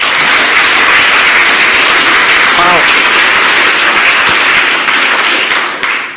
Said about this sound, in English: Please, an applause for her.